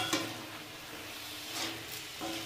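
Spoon stirring tomato into a fenugreek and cauliflower curry in a pan, soft scraping strokes over a faint steady sizzle, a few brief clinks, no talking.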